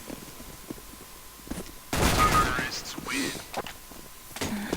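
Gunfire in the video game CS:GO: a loud burst of rapid shots in the middle, followed by a few fainter shots and thuds, with a voice speaking over parts of it.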